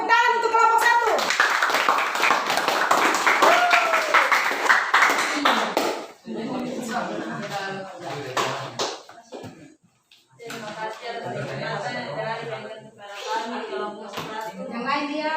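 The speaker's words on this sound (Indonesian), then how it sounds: "tepuk tangan untuk kelompok 1" Students applaud a presenting group in a classroom with a burst of clapping, followed by children's voices and more talk.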